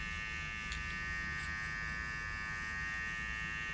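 Hair clippers buzzing while cutting a low taper fade, a steady electric hum held unbroken, close and even, with faint clicks of the blade against hair.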